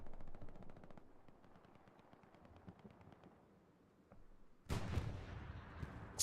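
Machine gun fire in a World War II shooter match on Utah Beach, a faint rapid rattle of distant bursts followed by a sudden louder, closer volley of gunfire near the end.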